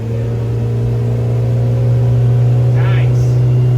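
A 2003 HarborCraft 18 boat with a Yamaha 75 outboard runs at about 5,500 RPM into a banked turn, giving a loud, steady, close engine drone with a strong low hum that holds throughout.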